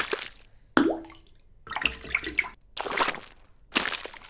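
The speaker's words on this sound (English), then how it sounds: "let's get a little splash because we definitely need a splash for this" Splash sound effects for a fishing minigame play one after another, a run of watery plops, drips and short splashes, some hollow and bubbly, with brief gaps between them.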